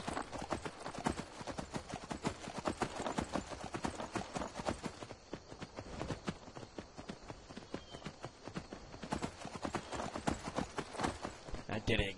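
Rapid, steady clip-clop of horse hooves at a brisk gait in the video game Skyrim, loud and continuous throughout, with some talking mixed in.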